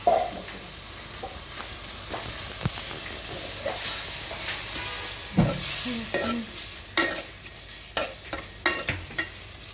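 Tomato is tossed into a pan of frying tengra fish and stirred, with a steady sizzle broken by scraping clicks of the spatula against the pan, close and fairly loud.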